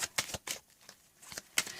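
Tarot cards shuffled by hand in a series of crisp riffled bursts, about six short rustling flicks spread across two seconds with quiet gaps between, close and fairly faint.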